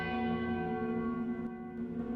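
A soft, sustained church bell tone hums steadily through a hushed village, its ringing overtones lingering evenly without any voices.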